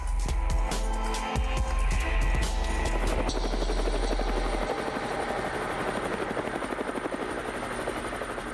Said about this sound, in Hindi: इस हेलीकॉप्टर का नाम ही इतना इंटरेस्टिंग है, रुद्र